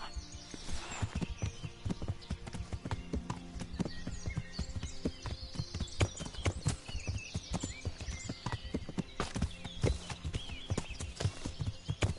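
An armoured horse walking in the medieval video game Kingdom Come: Deliverance, its hooves clopping in a steady, close rhythm over an ambient game background, with no talk over it.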